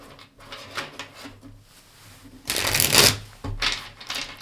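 Tarot cards are shuffled close by, riffling in short bursts with a louder flurry of rapid flicks and slaps near the middle, followed by softer shuffling.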